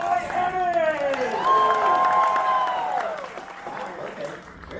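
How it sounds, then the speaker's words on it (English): An audience at a live horror make-up show in Orlando breaks into sustained applause with cheering and whoops, a dense wash of clapping under a loud voice that carries through. "Big round of applause"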